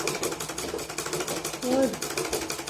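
Sewing machine stitching the lining of a blouse, a fast rhythmic mechanical clatter running steadily and fairly close, with a voice talking over it.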